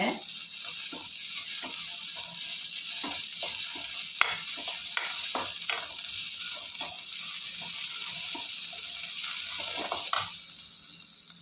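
Onions sizzle and hiss in a hot pan while a utensil stirs and scrapes in irregular clicks, close up with no talking.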